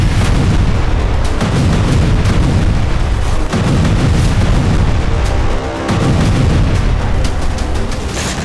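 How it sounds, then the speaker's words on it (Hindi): Bombs exploding on a refugee camp in Gaza, heard as a dense, continuous barrage of loud, heavy booms and rumbling blasts that never let up, with no voices. "जिस जगह से तेज आवाज के साथ रोशनी दिख रही है उस जगह गाजा शरणार्थियों का कैंप है, जहां सोते हुए लोगों पर बम गिराए गए।"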